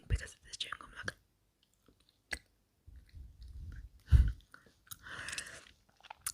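Soft, close gum chewing with moist smacks and clicks comes in bursts, mixed with whispered talk and breathing in a quiet setting.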